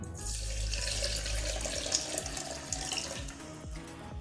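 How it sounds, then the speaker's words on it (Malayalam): Coconut water pours steadily into a blender jar for juice, making a continuous splashing, gurgling flow that stays close and fairly loud for several seconds with no talk. "നാളികേരത്തിൻ്റെ വെള്ളം കൂടെ ഇതിലേക്ക് ഒഴിച്ചു കൊടുക്കാം."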